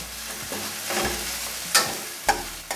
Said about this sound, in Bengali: হাফ চামচ রসুন কোড়া, 2 মিনিট ভেজে নেব।